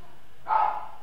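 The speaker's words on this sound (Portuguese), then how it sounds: "Só tem um cachorro latindo aí" A single short dog bark comes from somewhere nearby, heard briefly over the quiet background of an indoor room.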